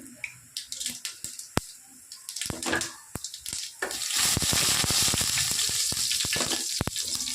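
Mustard seeds and urad dal frying in hot oil for a ridge gourd poriyal: scattered sharp pops and clicks at first, then a steady loud sizzle with continuing crackles close by.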